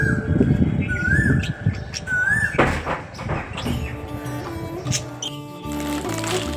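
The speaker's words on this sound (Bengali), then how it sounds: "তা এখন তোমরা শোনো কোকিলের ডাকটা কি মিষ্টি লাগছে" An Asian koel calls in the morning with two rising whistled notes close together early on. Clattering and rustling household sounds follow, and fainter tonal bird notes continue underneath.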